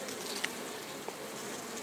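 A soft, constant buzzing of bees around hive boxes at an apiary hovers in the background, fairly faint, with a couple of small ticks and no talking.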